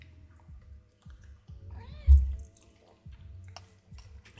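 A pet cat meows a couple of times close by indoors, the short rising calls standing out over quiet background clicking.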